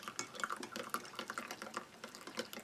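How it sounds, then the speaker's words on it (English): Hot water poured into a mug of fine ration drink powder, a soft continuous trickle with small clinks, faint and close, no talk. "I'm just going to give the drinks powder, very fine looking powder"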